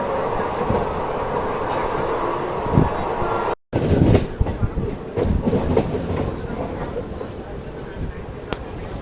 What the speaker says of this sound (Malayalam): കാരണം പതുക്കെ തന്നെയാണ് ട്രെയിൻ പോകുന്നത്